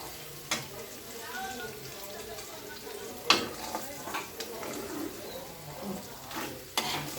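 Ingredients for a roast stirred as they fry in a pan: a low, continuous sizzle broken by several sharp scraping and knocking hits from the spoon at irregular intervals.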